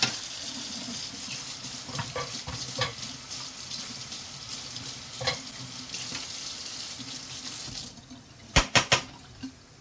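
Running tap water rinses a layer out of a Nanaimo bar pan, a steady close rush of flowing water with a few scraping knocks, then sharp clatters near the end as the flow stops.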